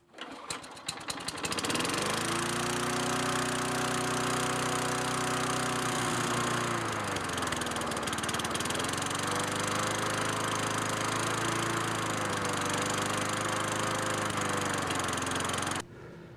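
Tecumseh lawn mower engine found in the garbage and repaired, with a carburetor still needing tuning, pulled and started, then running loud and close at a steady drone whose pitch dips and rises with the governor before cutting off at the end.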